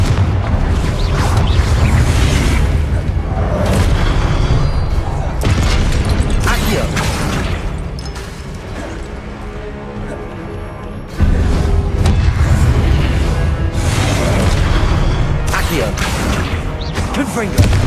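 The Confringo fire spell in Hogwarts Legacy bursts repeatedly in loud, booming blasts over continuous game noise, with a player's voice talking throughout.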